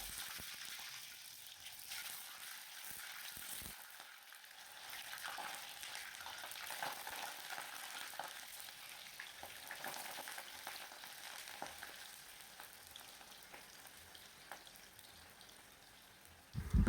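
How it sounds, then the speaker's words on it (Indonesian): Tofu dropped into hot cooking oil, a faint, airy crackle and spatter that continues steadily, ending with a sudden close knock, with no talking. "saya masukkan tahunya dulu."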